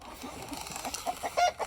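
Short, soft clucks from a backyard flock of Black Star and white leghorn hens and roosters, scattered bursts at moderate distance over a faint background hum.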